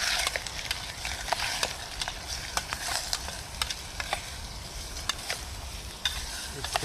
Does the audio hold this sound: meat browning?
yes